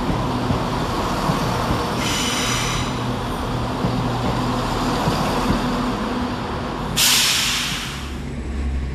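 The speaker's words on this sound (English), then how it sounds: "Departing on the far side is 222009, working the 1512 East Midlands Railway service to London St Pancras." An East Midlands Railway class 222 diesel unit departs Nottingham station for London St Pancras with a loud, steady engine drone and rumble. Two sharp bursts of air hiss occur, the second a loud rush near the end.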